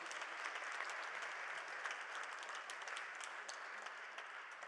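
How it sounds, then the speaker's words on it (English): An audience applauds at the launch of the Swaziland Educational Research Association, sustained crowd clapping filling the hall at an even level, with scattered individual claps standing out. "Can we please give Mage Wade a big round of applause"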